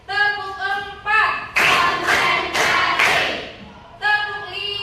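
A classroom of students claps in counted bursts during a short break in a lesson, four loud broadband claps in steady rhythm, set between a teacher's spoken count.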